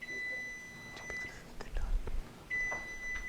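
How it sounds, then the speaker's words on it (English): Kitchen timer beeping while a cake bakes, a steady high electronic tone sounding at the start and again near the end, with soft speech and rustling between. "All right, so that's the timer."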